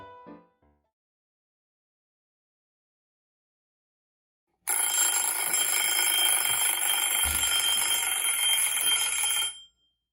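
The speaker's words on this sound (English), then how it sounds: "The timer went on and I have to take them out." A kitchen timer alarm rings for baking cupcakes, a loud continuous electronic ringing that starts partway through after a brief sound and near silence, then stops just before the end.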